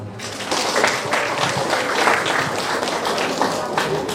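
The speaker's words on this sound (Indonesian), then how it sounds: "Tepuk tangan." An audience at a district social services event for Elderly Day in Central Lampung breaks into applause, a dense sustained patter of many hands clapping together, fairly loud and even from start to finish.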